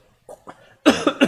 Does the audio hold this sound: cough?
yes